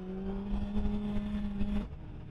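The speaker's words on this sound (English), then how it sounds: "Let's see if I downshift it real quick." A 2023 Suzuki Hayabusa motorcycle engine holds a steady, fairly faint whine while riding, then the note cuts off suddenly as it downshifts, heard briefly and without talk.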